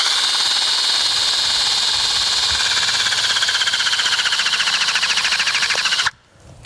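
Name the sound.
hydraulic crimping machine pressing clevis onto cable, small click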